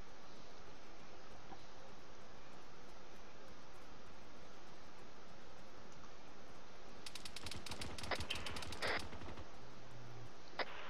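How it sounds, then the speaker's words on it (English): Gunfire in the Arma 3 military video game during a squad training session: a steady distant battlefield wash, then a dense burst of rapid automatic shots near the end, with no talking. "It's Titan shooting out past us."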